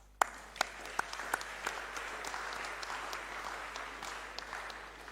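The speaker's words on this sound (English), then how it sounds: "I think we all need to clap for that." An audience at an annual conference breaks into applause, starting with a few sharp claps and building into steady, moderately distant clapping that continues throughout.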